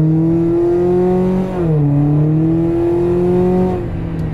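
2019 Toyota Corolla Hatchback with a 2J Racing mid pipe exhaust, heard from inside the car accelerating hard in sport mode, a steady loud engine note rising, dipping briefly, then climbing again.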